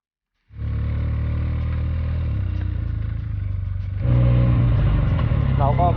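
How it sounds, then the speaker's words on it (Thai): A Benelli TNT300 motorcycle is ridden on a road up to a national park. It gives a loud, close, steady engine drone that starts abruptly and rises in pitch and level about four seconds in. "เดี๋ยวจะขับรถมอไซค์ขึ้นไปบนอุทยานภูหินล่องกล้านะครับ"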